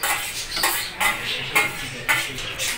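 Chilli chicken cooks in a pan, a bubbling sizzle broken by four or five sharp scrapes and clinks of a metal spatula against the pan at a steady stirring pace.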